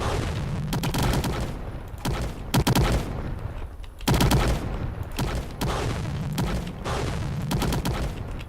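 Dense bullet-hell gunfire in a self-made video game comes in rapid bursts of overlapping shots, loud and close, with brief pauses between volleys and no talking.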